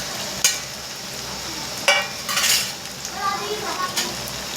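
Tomatoes dropped into hot oil and stirred in a pan for chicken curry, with a soft steady sizzle broken by several sharp clinks and scrapes of a utensil against the pan.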